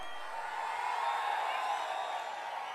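A political rally crowd for ADMK's Edappadi K Palaniswami at Pappireddipatti, Pennagaram, cheers as a steady, distant roar of many voices, fairly faint and unbroken.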